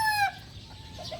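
A Butcher Kelso gamecock rooster gives a short, bright crow that breaks off after a fraction of a second, leaving quiet background.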